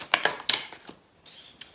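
Tarot cards shuffled by hand during a reading, giving a few quick riffling bursts with short pauses between, close and fairly crisp, with no talk over them.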